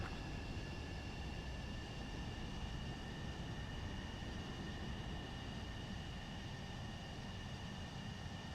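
A jet landing in the flight game Ace Combat 7, heard as a steady, loud engine roar with a high whine that holds level throughout, with no talking.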